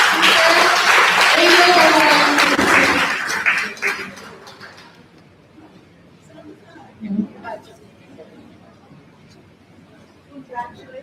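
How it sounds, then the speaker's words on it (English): Audience applause at an Asian anti-nuclear forum, loud clapping with cheering voices and speech over it for about four seconds, fading out to quiet room sounds and scattered talk. "Let's give a round of applause again to our"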